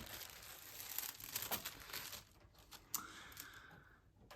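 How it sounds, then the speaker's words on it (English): Tissue paper wrapped around a Chanel handbag crinkles and rustles in bursts as it is pulled away during unboxing, close and fairly quiet, with sharper crackles near the end and no talking. "when I remove the last tissue paper"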